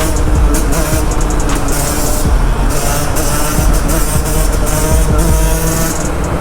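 A 125cc two-stroke motorcycle engine revs loud and close inside a tunnel, a buzzing, echoing drone with repeated rising and falling throttle pulls and no talking.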